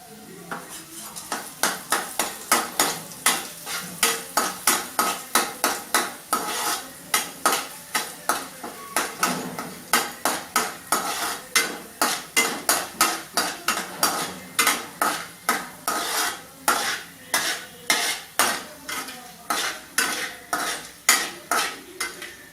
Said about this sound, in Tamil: நல்லெண்ணெய் காஞ்சதும் மண் தக்காளி அதில் போட்டு வறுத்து எடுத்துருவோம்